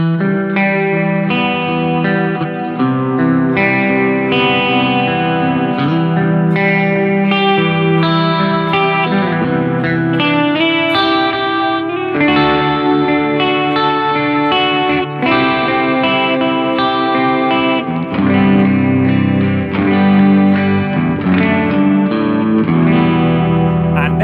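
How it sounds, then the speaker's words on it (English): An electric guitar runs through a space echo pedal giving lush, heavily modulated reverb, with loud, continuous chords and notes swimming in wavering repeats and a wide wash of sustain. "We've got the space echo."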